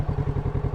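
A 2022 Kawasaki Z650 parallel twin motorcycle engine runs just after startup, a close, rapid, even low thumping pulse over a brief moment.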